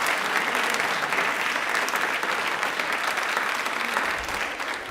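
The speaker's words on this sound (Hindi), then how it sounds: "अपने लिए पहले एक बार तालियां बजाइए, जोरदार बजाइए" Loud, sustained applause from a large crowd at a quiz event, steady dense clapping filling the whole stretch and easing slightly near the end.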